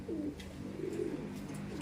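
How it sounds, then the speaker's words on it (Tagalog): Soft, low cooing from pigeons or doves repeats a few times as they eat, faint and somewhat distant over a quiet background. "Ito yung mga ibon natin, nagkain na oh"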